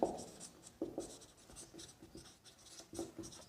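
A teacher writes lecture notes during a nursing class, pen scratching and tapping in short irregular strokes and bursts, close and fairly faint, with no talk.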